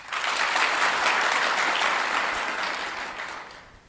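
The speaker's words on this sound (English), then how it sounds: "Let us give her another applause." Audience applause at a luncheon and debrief for a returning National Police Service contingent, a dense sustained clapping that starts full and slowly tapers off over a few seconds, with no voices over it.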